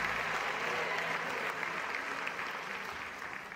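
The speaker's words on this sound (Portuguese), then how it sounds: "Alguém pode dar um aplauso a Deus?" Church congregation applauding during a sermon, a dense wash of clapping that stays full and even, then slowly fades a little toward the end.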